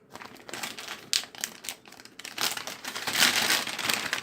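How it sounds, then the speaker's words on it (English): MRE ration heater pouch being ripped open at the top, a close crinkly tearing of plastic laminate in several bursts that grow louder toward the end, with no voices. "basically all you gotta do is rip it open on the top."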